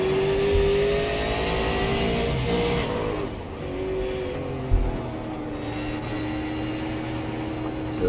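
A super late model race car engine roars in an onboard view, a loud continuous drone whose pitch rises and falls as the driver works the throttle, with no talk over it.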